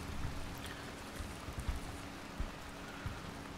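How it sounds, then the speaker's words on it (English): Heavy rain pours down in the military shooter Arma 3 during a night operation, a steady wash of noise with a few soft thumps, heard alone without talk. "You can see the rain is coming down pretty hard now."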